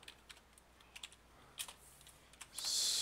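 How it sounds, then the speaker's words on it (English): Quiet, irregular clicks of typing on a computer keyboard, a few scattered keystrokes in a calm room, with a brief rush of noise at the end. "Let me type that in."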